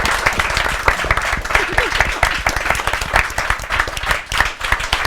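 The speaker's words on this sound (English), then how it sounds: "I want a big round of applause for our guests tonight." An audience applauds guests at The Foundry Sessions, a Q&A event launching Chris Hadfield's book "It's Not Rocket Science". The clapping is loud, dense and sustained for the whole stretch, a full room clapping steadily with no pause.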